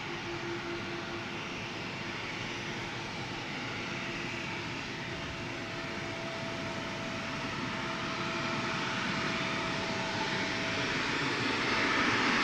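A CRJ regional jet takes off at Amsterdam Schiphol Airport, its engines giving a loud, continuous roar that slowly builds over the stretch, heard alone without any talk.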